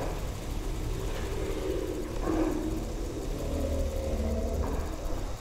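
Elite Dangerous Type-10 spaceship engines at full power, a steady low droning rumble that holds level throughout with slight swells, no voices.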